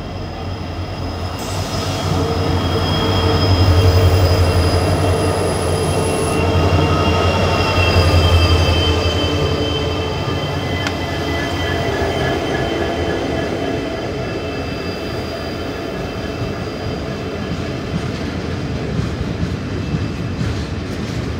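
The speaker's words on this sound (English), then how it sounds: "Here comes a freight train" A downhill freight train passes close and loud behind leading WDG4 breaker locomotives and trailing WDG4s. It gives a continuous heavy rumble with high wheel squeal and a rising and easing roar that lasts the whole stretch, with no talk.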